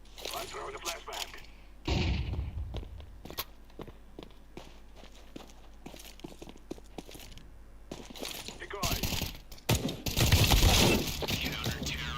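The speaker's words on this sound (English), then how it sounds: "I'm throwing a flashbang" A flashbang grenade is thrown in a first-person shooter video game, followed by bursts of gunfire, footsteps and a loud blast near the end, all close and chaotic amid intermittent talk.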